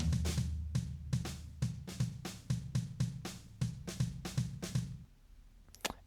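Leak mic channel of Logic's stock drum kit, bleed from all the drums playing a quick pop punk pattern of steady hits that fades out, ending with one sharp crack.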